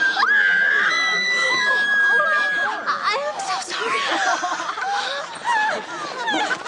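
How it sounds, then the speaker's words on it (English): A loud, shrill scream with sustained high-pitched wails, joined by crowd noise and laughter, in a comic scene from High School Musical after a nacho lands on Sharpay. "we have another dumbass scream in 3,"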